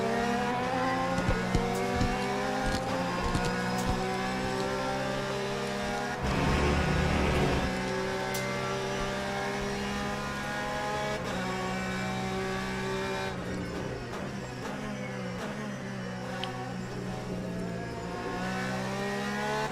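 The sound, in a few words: race cars going past in Le Mans Ultimate video game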